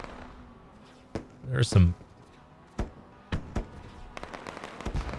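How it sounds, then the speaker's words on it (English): Fireworks in the iRacing racing simulator at the Spa-Francorchamps circuit give a few scattered pops and bangs, one a louder rumbling burst, followed by a crackly flurry, with someone talking briefly. "I didn't know that the software did fireworks like that."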